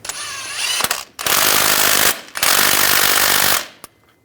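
An impact or power tool hammers an old crankshaft bolt tight on a 2007-2014 Cadillac Escalade 6.2L V8, in two loud sustained bursts of about a second each after a short opening rattle, with no talk.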